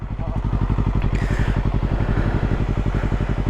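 A motorcycle engine thrums in a close, steady low pulse as a learner rider lets off the throttle and works the clutch to shift gears, the revs holding fairly even throughout.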